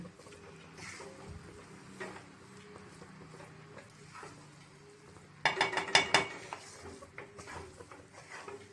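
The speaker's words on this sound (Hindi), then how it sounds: "नमक डालने के बाद फिर से इसे मिक्स कर देते हैं।" Tomato rice being mixed in a pan after salt is added, quiet scraping and stirring at first, then a louder burst of spoon clinks and pan scrapes near the end, close and without talk.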